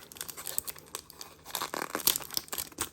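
A foil pack of 2003 Topps Stadium Club baseball cards is ripped open up close, with continuous crinkling and tearing of the wrapper rising to a louder burst of rustle midway.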